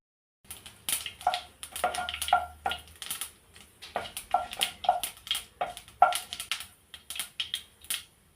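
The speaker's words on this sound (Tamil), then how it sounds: "கடுகு நல்லா பொரியட்டும்." Mustard seeds popping in a little hot oil while cooking paneer idli, a close, dense run of sharp crackles and pops with a couple of pauses, no voices.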